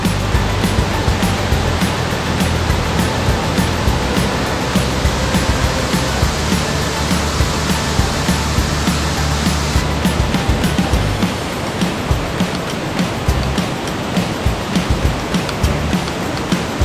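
A waterfall at Cascade L'Exemple on a river near Bel Ombre roars in a loud, steady broadband wash from start to finish, with a deep low rumble that drops away near the end while the bright spray continues.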